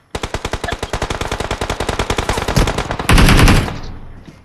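Automatic gunfire rattles in the PUBG Mobile video game on the Livik map, as a long, fast, evenly spaced burst of close, loud shots that ends in a denser crackling volley.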